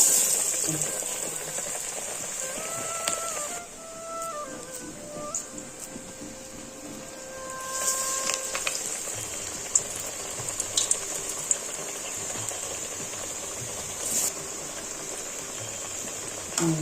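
Paruppu vadai patties slipped into hot oil sizzle and bubble steadily at close range, a continuous frying hiss running through the whole stretch with small crackles.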